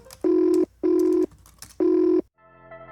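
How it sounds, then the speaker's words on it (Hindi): A telephone rings in three short, evenly spaced electronic bursts, fairly close, followed by a faint tone as it stops. "एक फोन आया"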